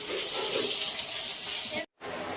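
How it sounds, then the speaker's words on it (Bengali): Pointed gourd (potol) fries in a pan with a loud, close, continuous hissing sizzle. The sound cuts out for a moment near the end, then resumes. "তো এখানে হচ্ছে পটল ভাজাভুজি চলছে।"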